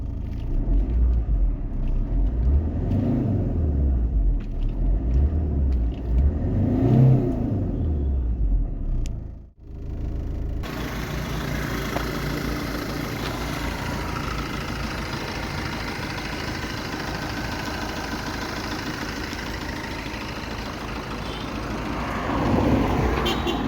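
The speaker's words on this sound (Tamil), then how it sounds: "இப்போ நம்ம இந்த காரோட இன்ஜின் சவுண்டை இந்த வீடியோவில் பார்ப்போம்" A Tata Manza diesel car engine runs, first with a throbbing, rising and falling rumble, then after a brief dip settling into a steady idle with broad mechanical noise, close and loud.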